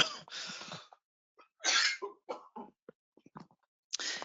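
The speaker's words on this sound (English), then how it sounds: "I'm having a coughing fit" Someone having a coughing fit during an online webinar: a string of harsh coughs and throat-clearing bursts, close to the microphone, broken by short silences.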